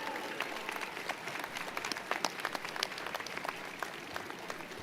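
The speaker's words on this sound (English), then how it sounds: "please show your thanks and applaud these dedicated individuals who have guided you" Graduates applauding faculty at a spring university commencement ceremony, a dense, sustained wash of clapping from a large crowd in a big hall, steady and fairly distant.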